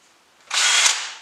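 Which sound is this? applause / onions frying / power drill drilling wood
power drill drilling wood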